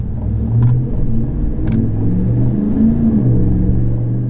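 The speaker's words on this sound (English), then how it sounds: "you hear that exhaust note nice and strong, nice and loud" A deep, throaty GM 6.6L gas V8 pickup with a Borla S-Type exhaust accelerates with a strong, loud exhaust note, pulsing through gear changes, close by and without speech.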